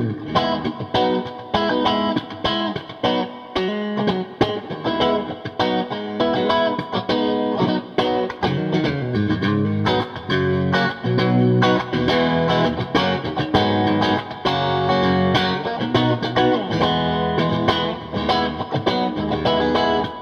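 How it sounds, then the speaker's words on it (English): A PRS Modern Eagle V electric guitar on the bridge and middle pickups plays a bright, twangy, slightly quacky riff with strummed chords and picked notes, steady and fairly loud, with no talking. "let's hear now the bridge in the middle, so we get that kind of strut quack again."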